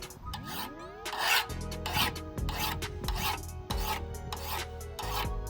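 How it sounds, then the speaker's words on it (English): A hand file rasps across a removed lawnmower blade in a series of steady, loud strokes up close, with metallic ringing between passes. "I will sharpen it with a file, which is the simplest and fastest way to sharpen it"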